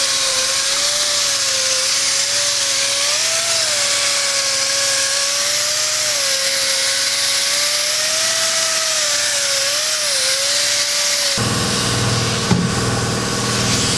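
A polisher buffs urethane paint with compound on a restored car, a steady loud whine with a wavering motor tone running continuously, then shifting to a rougher, noisier pitch near the end.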